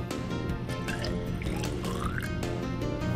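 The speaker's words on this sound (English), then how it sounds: "This sample here, you're gonna pour off into this graduated cylinder to the 50 mil mark." Water sample from a water treatment lab poured into a graduated cylinder up to the 50 ml mark, a steady liquid trickle and gurgle with rising fill tones, close and continuous.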